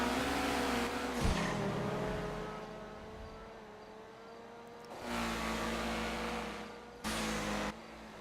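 A Feltzer sports car races in Grand Theft Auto, its engine droning steadily with pitch shifts and surges as it accelerates, changes gear and revs through the race.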